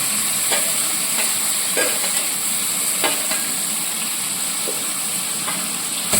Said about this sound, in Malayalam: ഇത് നന്നായിട്ട് അങ്ങ് വഴറ്റണം